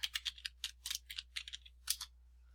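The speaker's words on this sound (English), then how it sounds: "So I'm just going to type that in." A computer keyboard clatters with quick, irregular bursts of keystrokes, close and fairly quiet, pausing briefly between short runs of typing.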